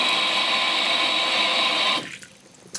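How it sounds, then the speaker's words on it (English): Hot water gushes steadily from a tap in a St. Petersburg apartment, a loud close hiss that stops abruptly, followed by a few faint drips and a small knock. "You may notice I have this turned to the left, so it's hot water."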